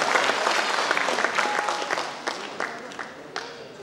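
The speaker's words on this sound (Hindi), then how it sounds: "जोरदार तालियों के साथ Pradeep ji please come on the stage." Audience applause at a World Book of Records honouring ceremony as a speaker is called onto the stage: dense clapping from a crowd that gradually thins out into scattered individual claps.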